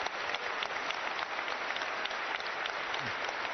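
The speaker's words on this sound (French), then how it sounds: "Applaudissez encore très très très fort pour Jésus." A congregation applauds for Jesus at a Paris morning water church service, with steady, dense clapping from a large crowd that fills the space from start to finish.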